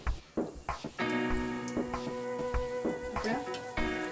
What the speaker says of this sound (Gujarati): પહેલેથી જ તેલને ગરમ થવા રાખી દીધેલું છે, બેટરમાં ડીપ કરી આ રીતે ઉમેરી દઈશું।